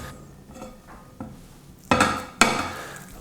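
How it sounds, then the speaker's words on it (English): Sausage meat and black pudding drop into a bowl with a few soft clinks and scrapes, then two louder thuds and stirring clatters as they are mixed by hand. "we're going to put all that in there and give that a good mix up"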